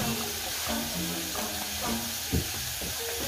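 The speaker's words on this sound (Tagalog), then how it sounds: "pumuputok na yung longganisa natin" Longganisa sausages fry in a pan with onions, giving a steady close sizzle broken by scattered small pops and one sharper crackle partway through.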